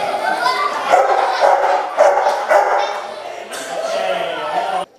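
Several dogs housed at an animal-protection event bark and yip in repeated bursts, near and loud, with some whimpering between barks.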